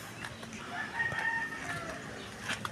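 A native chicken rooster crows at a moderate distance, one drawn-out call with faint clucks and rustling around it in a quiet outdoor setting.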